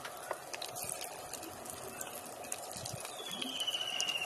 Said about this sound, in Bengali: অনেকটা পরিমাণে তেল দিয়ে ম্যারিনেট করা চিকেনটা ভেজে নেব ভালোভাবে।